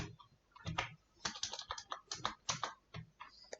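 Someone types an SQL query on a computer keyboard in irregular bursts of soft key taps, heard close and quiet against a calm room.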